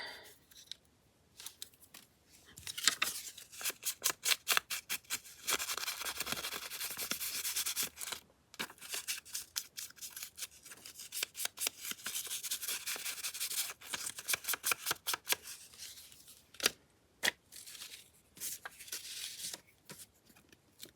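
A postcard being trimmed with scissors, with repeated crisp snipping and sliding paper cuts in close, irregular bursts and short pauses, heard alone without talk.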